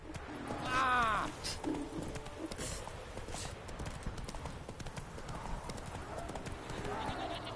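Roach the horse clip-clops along in The Witcher 3 game, a steady run of hoofbeats under a voice, with a brief whinny-like cry near the start.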